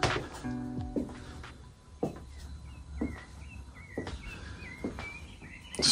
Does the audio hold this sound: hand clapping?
no